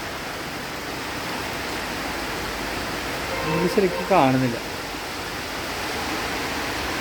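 Heavy rain pours steadily on a dark forest, a continuous loud hiss of drops on leaves, interrupted briefly midway by someone speaking.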